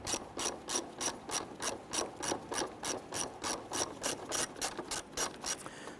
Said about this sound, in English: I'm going to use our ratchet. Let's go ahead and loosen and remove that.